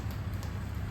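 A crowd taps fingers on their palms to imitate raindrops, giving a dense, even patter like light rain, soft and continuous.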